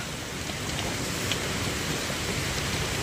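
Steady rain pours down, a dense even hiss of drops with no pauses and no voices.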